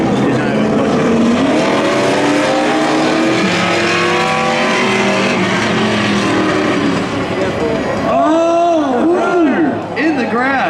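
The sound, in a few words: Chevrolet Corvette C8 drag racing down the strip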